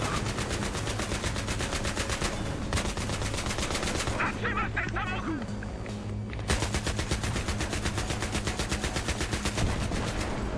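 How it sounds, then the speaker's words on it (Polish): Sustained rapid automatic gunfire in Battlefield 3, dense and loud throughout, with a brief lull in the middle before the bursts resume. "Jeszcze ktoś strzela?"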